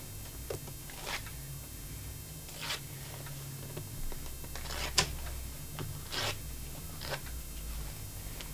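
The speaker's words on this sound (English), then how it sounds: "remove the stabilizer from the zipper." Several short, sharp ripping bursts spread unevenly over quiet background noise, as embroidery stabilizer is torn away from a zipper in small pulls close by.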